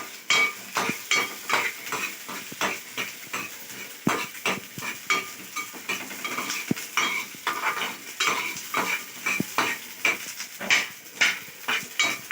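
Ivy gourd frying in a pan is stirred with a utensil, giving rhythmic scraping and clinking strokes about once or twice a second over a light sizzle, close and fairly loud.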